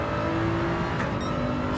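Race car in Gran Turismo 7 on Grand Valley Highway, engine droning steadily at high revs as it pulls out of a corner, a continuous whirring tone close up with no talking.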